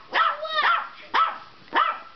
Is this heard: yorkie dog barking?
yes